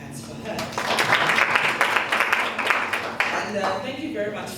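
Audience at a DDP Women's Day conference claps for the keynote speaker, a dense, steady wash of applause that swells and then thins, with a voice speaking over it through much of the clip.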